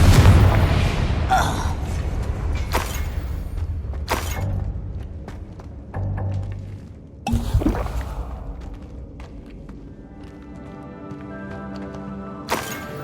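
A Confringo fire spell erupts in Hogwarts Legacy, a loud broadband blast followed by further booming bursts and thuds with quieter game ambience between them.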